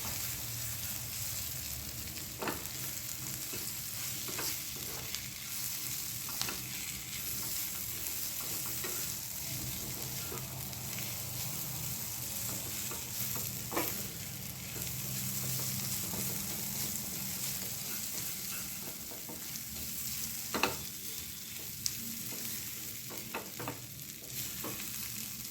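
Kachori filling being stirred and mixed in a frying pan, a steady soft sizzle with scraping strokes of the spoon and a few sharper clacks against the pan, continuous and close throughout.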